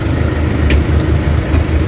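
A Kia K2700 diesel engine, low on power, runs close and loud at idle with a steady low rhythmic chug and faint ticking on top, with no voices.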